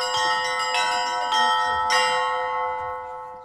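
Bright church bell strikes ringing out several times in quick succession at a Slavic Literature and Culture Day celebration, each leaving a long shimmering decay that fades away.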